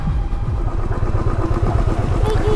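A motorcycle labours along a rough, broken mountain road near Darjeeling, its close engine rumbling unevenly with rattling clatter from the bike as it climbs.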